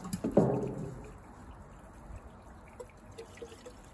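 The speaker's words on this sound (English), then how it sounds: "Go ahead and fill this up with Moto Mix." Moto Mix fuel is poured into the tank of a Stihl MS290 chainsaw. A short, louder gurgling splash comes first and then fades into a faint, steady trickle with a few scattered drips.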